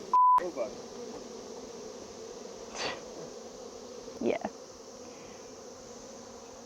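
A steady, low buzz of honeybees around a hive hums throughout, with a brief beep at the start and a single short spoken word.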